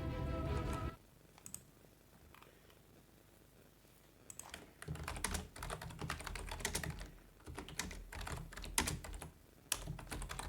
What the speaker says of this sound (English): you probably heard my keyboard there